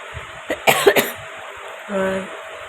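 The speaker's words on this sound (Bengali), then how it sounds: "একটু কথা বললে কাশি হচ্ছে" Several sharp, close coughs from someone with a cold and a sore throat come in a quick cluster, followed by a softer throaty sound in an otherwise quiet room.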